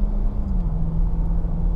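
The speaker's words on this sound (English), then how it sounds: "I don't think I hear any wind noise, but I do hear some road noise" Steady low rumble of road and engine noise inside the cab of a moving 2019 Toyota Tundra SR5 4x4 pickup, constant and droning with a faint tonal hum.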